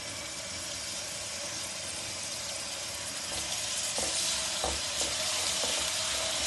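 Grated onion, garlic and ginger sizzle steadily in hot oil in a pan, a continuous close frying hiss with occasional stirring scrapes and pops, no voices.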